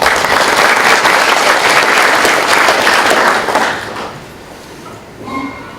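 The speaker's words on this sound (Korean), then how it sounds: "큰 박수로 환영해 주시기 바랍니다." Loud applause from the audience at a tap water international symposium, welcoming a speaker, with full, steady clapping for about four seconds that then fades to scattered claps and room noise.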